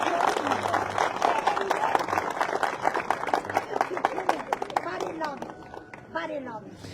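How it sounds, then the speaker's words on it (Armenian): An audience applauds at a village gathering, giving a dense burst of clapping under a murmur of voices. It thins out toward the end as people start talking. "Եկեք ծափահարենք այս խոսքերը"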